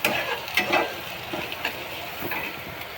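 Onion frying with curry leaves in a pan, a steady soft sizzle with occasional stirring scrapes and clicks, close and fairly quiet throughout.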